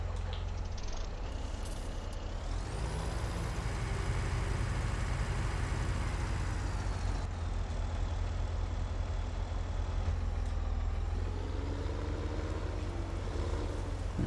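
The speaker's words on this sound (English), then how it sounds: "Let me move the truck back." A truck in Farming Simulator 17 reverses with a steady, loud engine drone that rises in pitch, holds, then drops, with a faint mechanical whine over the top.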